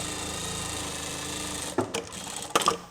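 Sewing machine quilting a tote bag, a steady mechanical whir running quietly, then a few sharper clicks and knocks near the end.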